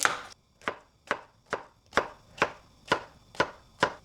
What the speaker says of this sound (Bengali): শসা এখন কেটে রাখতেছি।